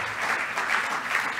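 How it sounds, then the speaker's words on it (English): Audience applause at the FLOGEN SIPS 2023 awards ceremony, a brief burst of steady, dense clapping from a crowd in a hall, moderately loud and heard alone. "Can you have a big applause, please, because he deserves."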